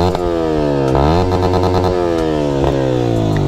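A Yamaha R15 V4 motorcycle with a KTM Duke 250 exhaust and its dB killer fitted revs loudly up close. The engine's rasping note climbs and drops through several throttle blips without pause.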